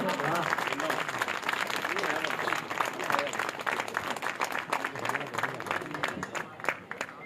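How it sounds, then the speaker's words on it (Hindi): A crowd at an open-air Hindi poetry recital on a Ram Leela ground claps hard and continuously, a loud, dense roar of many hands that runs the whole stretch, with faint voices mixed in beneath. "एक बार जोरदार तालियां बजाइए।"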